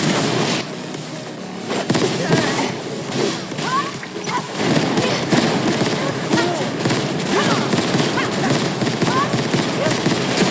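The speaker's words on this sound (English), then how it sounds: "It's like shooting all these little blue flames that sound like gunshots." Rapid crackling pops and bursts like gunfire ring out continuously over a busy, noisy mix, with voices shouting in the background.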